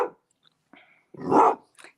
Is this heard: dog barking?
yes